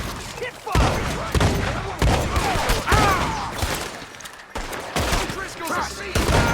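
Rapid gunfire from the video game Red Dead Redemption 2: loud overlapping shots and volleys crack repeatedly throughout, with voices speaking between and under the bursts.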